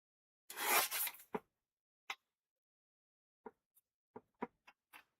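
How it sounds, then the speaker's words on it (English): A paper trimmer cuts along the border of a craft card, with a short sliding slice near the start followed by several faint, sparse clicks and taps in otherwise quiet surroundings. "So let's go ahead and trim this."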